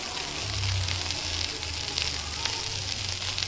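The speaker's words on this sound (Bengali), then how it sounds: "চিড়েটাও আমি নেড়ে নেব।" Flattened rice (poha) crackles softly in a hot pan as it is stirred, a low steady sizzle with small scraping ticks, brief and unbroken.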